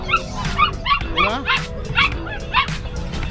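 A dog yips and barks in quick repeated bursts close by at a dog sale in Bocaue, several high, sharp calls over background chatter, with a person speaking briefly.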